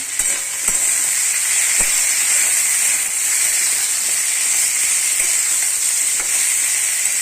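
Loud, continuous sizzling of kohlrabi and green chillies frying in a pan, with a steady hiss and a few sharp clicks of stirring.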